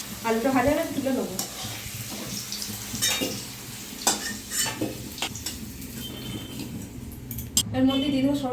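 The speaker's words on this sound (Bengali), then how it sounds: "তেল গরম হয়ে গেছে, আমি আলুটা ভেজে নেব।" Potatoes sizzle and fry in hot mustard oil with turmeric, a steady frying hiss running throughout while a spoon stirs and clinks against the pan with occasional sharp knocks.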